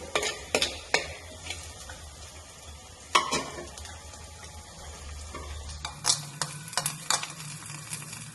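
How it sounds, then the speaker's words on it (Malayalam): Sliced onion being stirred in a hot pan for a fish curry, a low sizzle of frying broken by several sharp spoon scrapes and clacks against the pan, close by and with no voices. "ഉള്ളി ഇട്ട് ഒന്ന് ഇളക്കി കൊടുക്കാം."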